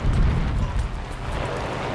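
A bomber's explosion right nearby in the WWII shooter Enlisted, a heavy booming blast at the start that decays into a sustained low rumble and debris noise.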